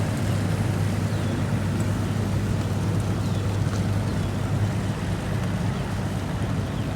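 A tournament fishing boat motors out from the dock at the start of a fishing cup event, its engine a steady low drone that runs evenly throughout, with wind rushing across the microphone and no talk.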